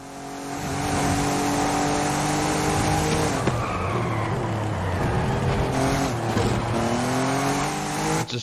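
Audi and BMW race cars in a racing video game, engines droning steadily with rising and falling pitch through gear changes, plus brief tire squeal, loud and continuous throughout with no talk.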